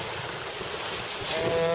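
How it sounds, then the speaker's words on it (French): Steady wind buffeting the microphone over a constant hiss of rain and water aboard a sailboat at sea off Brittany, with a faint high tone rising near the end. "comme on peut voir il pleut, il y a du vent"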